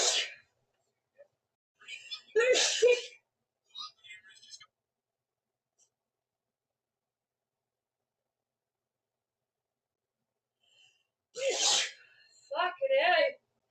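Several sharp sneezes come in a fit, separated by long silences and breathy whispered exhalations, close and quiet.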